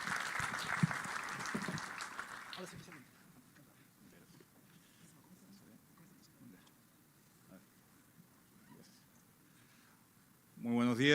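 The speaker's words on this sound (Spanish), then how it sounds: "Un fuerte aplauso para él, por favor." Applause from an audience at an economics conference for small businesses, a short burst at the start that fades quickly, followed by quiet room noise and then speech.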